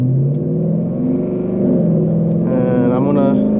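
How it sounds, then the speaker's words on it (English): A Ford Mustang with a 10-speed automatic is driven in sport plus mode, its steady engine drone rumbling continuously up close, with a rising rev climbing under the hum near the end while a voice talks over it. "we are going to start driving now, and like I said, I have it in sport plus mode in the normal drive setting,"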